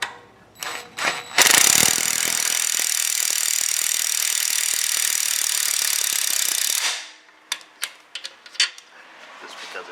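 An impact wrench tightening long exhaust manifold lock nuts on a GM 4.8, 5.3 or 6.0 V8, a loud sustained rattling hammer for about five seconds, bracketed by short bursts and light clanks.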